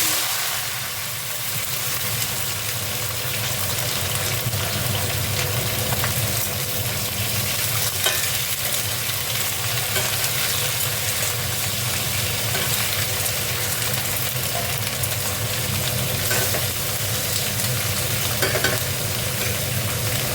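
Vegetables fry in hot oil for a fish-head chachori dish, giving a steady, loud broadband sizzle that runs unbroken throughout with no talking.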